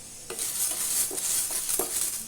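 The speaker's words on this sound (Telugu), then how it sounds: "కొద్దిగా ఒక 2 టేబుల్ స్పూన్స్ ఆయిల్ వేసుకొని కందిపప్పు అందులో వేసుకొని వేయించుకోవాలి." Toor dal roasts in about two tablespoons of oil in a pan on low heat, a bright steady sizzle punctuated by several spatula scrapes and taps against the pan.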